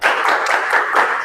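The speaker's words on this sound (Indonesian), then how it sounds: "Tepuk 2" A classroom of students clapping together on command, a brief dense burst of many hands, loud and close.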